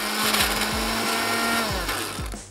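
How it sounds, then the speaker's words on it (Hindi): A kitchen blender runs continuously, pureeing mango for ice cream, its steady motor whir loud and close with rhythmic pitch dips as the blades bite through the fruit, no talking. "तो ब्लेंडर को चलाते हैं।"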